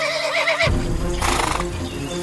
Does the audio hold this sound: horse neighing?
yes